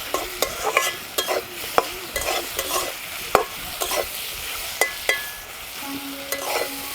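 Sliced radish lightly frying in a pan with turmeric powder, a steady soft sizzle punctuated by regular scraping stirs of a spoon against the pan, close and alone with no talk.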